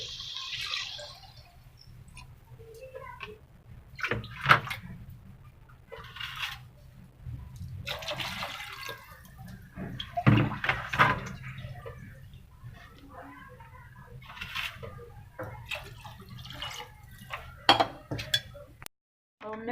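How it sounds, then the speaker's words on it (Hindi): Water trickles and splashes into a metal pot of rice for vegetable pulao on a gas stove, with light clinks of utensils and a steady low hum underneath. "अब हमने पानी डाल दिया।"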